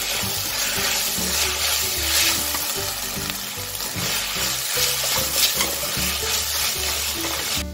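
Vegetable stuffing for spring rolls, seasoned with soy sauce, red chili sauce and pepper, is stirred in a hot pan, giving a continuous loud sizzle with repeated scraping strokes and no voices.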